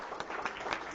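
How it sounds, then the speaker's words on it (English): A brief burst of clapping at a school district board meeting, a few distinct quick claps heard at moderate distance for about a second. "Give Mama a round of applause."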